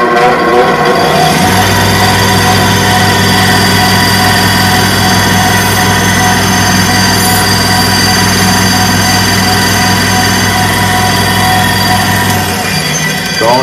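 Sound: belt grinder polishing convex blade on green Scotch Brite belt

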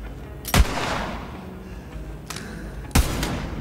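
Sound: gunshots at the range in video game Borderlands 3

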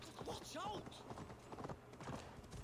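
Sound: horse hooves in video game Assassin's Creed Valhalla

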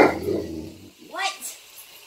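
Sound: dog barking excitedly

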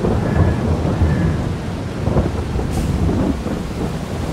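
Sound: thunder and rain in video game Farming Simulator 22

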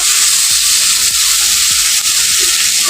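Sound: sizzling and stirring of mukhi kochu (taro) curry

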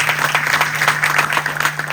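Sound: loud applause from the audience

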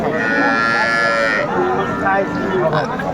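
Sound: cow mooing at a cattle market

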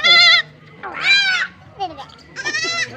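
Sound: goat bleating

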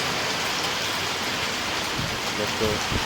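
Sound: rain falling

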